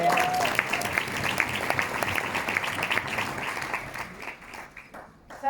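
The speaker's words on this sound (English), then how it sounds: "Give him a round of applause." An audience claps for a speaker at a talk event, dense steady applause that thins and fades toward the end, with a brief voice near the start and a few scattered claps as it dies down.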